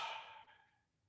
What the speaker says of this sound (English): And now yawn.